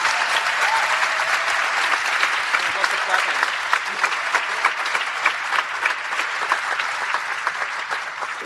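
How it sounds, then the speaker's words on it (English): A large audience at a School Strike for Climate event applauds steadily as four panel guests are welcomed, dense sustained clapping filling the room at an even level throughout. "Please give these 4 a big round of applause and a welcome."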